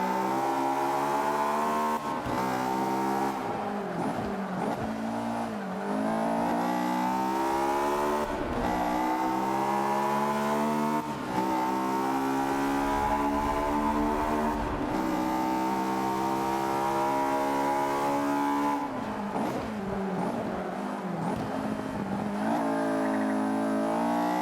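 A turbocharged race car from Forza Motorsport 5 revs hard at high RPM, its loud engine climbing through gears again and again with shift dips, turbo whine and brief tire squeal, almost free of talk.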